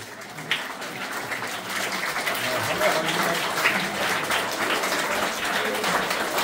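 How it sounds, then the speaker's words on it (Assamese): Audience applause at a Langdon Foundation tree-planting event in Darrang, Mangaldai, sustained and evenly spread clapping from a crowd, moderately loud and continuous throughout. "আকৌ এটি হাত চাপৰি।"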